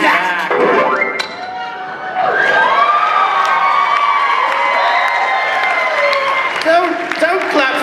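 Crowd at a haunted attraction presentation clapping and cheering, with scattered claps rising into sustained whoops and shouts over a loud musical noise, fairly close and lively.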